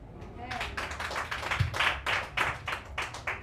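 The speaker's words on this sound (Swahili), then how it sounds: "Tuwapigie, tuongeze tu makofi" A church congregation claps in uneven bursts, sharp hand claps rising and falling at close range, with talk mixed in.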